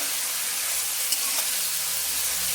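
Malabar spinach (pui shak) sautéing in a pan gives off a soft, steady sizzling hiss, with a faint scrape or two from stirring near the middle.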